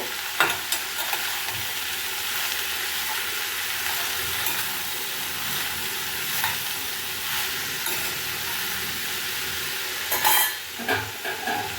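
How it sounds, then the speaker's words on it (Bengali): Ash gourd and its peel frying with salt and turmeric in a pan, a loud steady sizzle with occasional stirring scrapes and clinks, growing busier near the end, no voices. "চাল কুমড়ো আর চাল কুমড়োর খোসা অ্যাড করে দেবো। পরে নুন আর হলুদ দিয়ে খুব ভালো করে নাড়াচাড়া করে"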